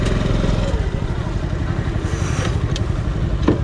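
Motorcycle engine at a river crossing, a close, loud, steady throbbing idle with some clatter and scraping, under a voice.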